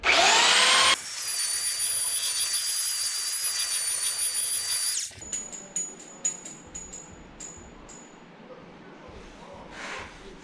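A power sander grinds Bondo body filler off a subwoofer box with a loud, harsh whine for about four seconds, then cuts to quieter scraping and rubbing strokes with faint chirps.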